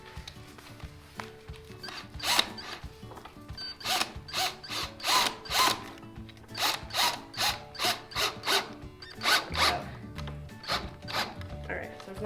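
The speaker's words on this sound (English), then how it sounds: "I'm just going to put one screw in real quick to anchor it," A screw is driven into pallet wood for a sheep stall as part of a DIY barn build, heard as a series of short, loud ratcheting bursts from a nearby driver with brief pauses between them.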